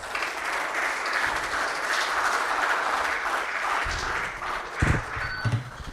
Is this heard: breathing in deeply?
no